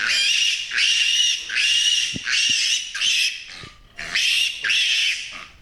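A roughly 4 kg piglet, roped and held for an injection, squeals loudly and repeatedly in a series of shrill, strained cries, close up and with almost no pause between them.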